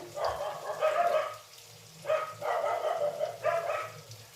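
Dogs bark and snarl outdoors in repeated bursts at a moderate distance as they fight with monkeys, three clusters of agitated barking separated by short pauses.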